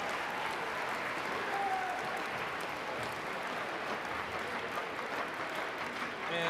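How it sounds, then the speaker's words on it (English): Audience applause welcoming new colleagues at a college opening convocation, a steady broadband wash of many hands clapping that holds evenly for several seconds in a large hall. "Please give our new colleagues a welcome applause."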